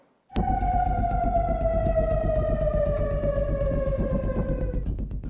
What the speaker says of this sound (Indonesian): Suara sirine terdengar di berbagai kawasan permukiman di kota Amman